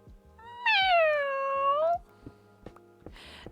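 A voice imitates a cat's meow: one loud, drawn-out, rising-then-falling call, followed by a few soft knocks and a brief hiss. The cat had squeezed under the plastic sliding panel of an air conditioner.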